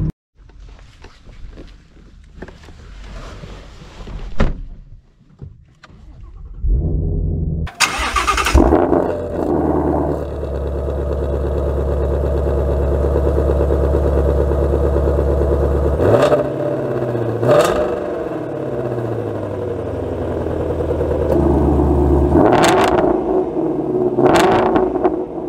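A Ford Shelby GT350 engine cranks and fires after some quiet handling noises, then settles into a loud, rough idle broken by several sharp revs.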